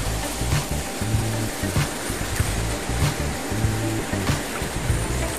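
River water rushing through a Caribbean stream in Dominica, at a spot where deep and shallow water meet, makes a steady, loud broadband roar that carries on unbroken with no voices.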